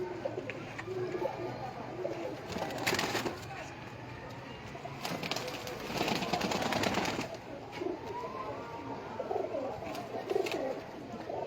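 Pigeons coo softly and repeatedly at close range, with occasional wing flutters and background rustling.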